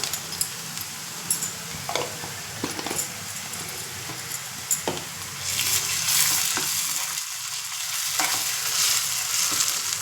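Ginger garlic paste frying with onions in a pan for a village-style country chicken curry, a continuous close sizzle with scattered spoon scrapes and taps that swells louder partway through, no talking.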